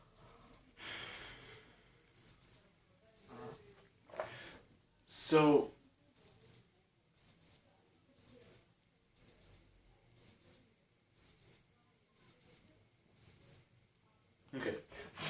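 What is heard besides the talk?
alarm beeping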